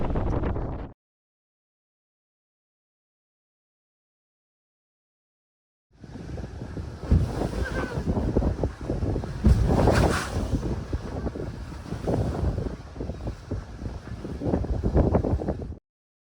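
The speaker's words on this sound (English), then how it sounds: "we are having some weird wind wave jostling." Wind and choppy waves buffet a sailboat at the eastern end of the Caicos Bank, a loud, steady rush with wind roar on the microphone and irregular splashes, following a brief burst and a long silence.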